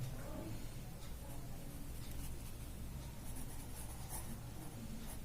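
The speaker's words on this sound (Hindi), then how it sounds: "लिखेंगे हम यहां पर" Pen scratches steadily on paper during a fifth-grade math lesson on rounding numbers, a faint, close scribbling texture with short pauses between strokes and no voice over it.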